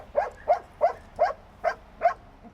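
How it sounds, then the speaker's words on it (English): Belgian Shepherd and German Shepherd search dogs barking while searching rubble for a buried person, six evenly spaced sharp barks at a steady rhythm, moderately close, with no talk. "Their barking is an indication that there is a human down there somewhere."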